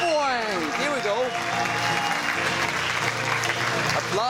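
An audience applauds at a movie release, a steady wash of clapping that runs throughout, with a wavering tonal sound and a voice rising over it near the start.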